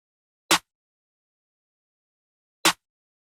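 Two sharp, punchy layered snare hits in an FL Studio beat, spaced about two seconds apart, each short and crisp, with silence in between.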